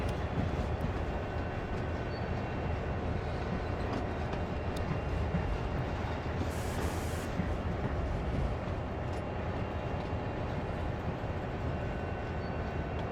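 A CSX heavy-haul locomotive in Train Simulator World gives off a steady, low, rumbling engine drone that fills the whole stretch without a break. No one speaks.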